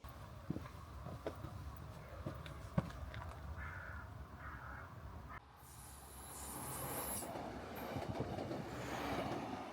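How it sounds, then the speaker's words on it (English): A FLIRT passenger train pulls into a station on the Valley Lines, rumbling and rising in loudness over the second half, with a wheel squeal near the end and scattered crow caws earlier on. "My next train is pulling in now."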